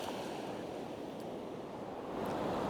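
Ocean waves rolling in at the coast on a murky midday, a steady broadband wash of surf with wind noise, continuous and fairly close, no talking.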